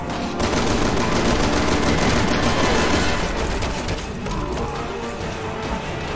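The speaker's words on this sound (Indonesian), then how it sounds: "Oke, kita tembak-tembak dikit ya." Gunfire in the Resident Evil 6 video game, loud rapid shots fused into a continuous dense barrage with crashing impacts, easing only slightly near the end, with no talking.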